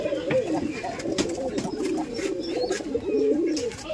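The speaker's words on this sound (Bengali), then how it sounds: "বাজিওয়ালা কবুতর, এই যে নর, এটা ধরে দেখতে পাচ্ছেন কবুতর।" Racing pigeons at a pigeon farm coo in repeated soft, throaty rolls close by, a male among them, while a person talks over the birds.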